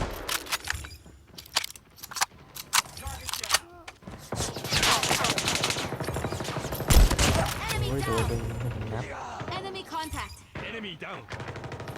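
Sharp gunshots and rapid automatic bursts in the Call of Duty Mobile video game, loud and close, starting as scattered single shots and building into sustained firing, with a person talking over the action.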